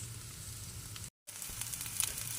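Cabbage florets sizzle and crackle steadily in hot oil, close and fairly quiet, with a brief gap of silence midway.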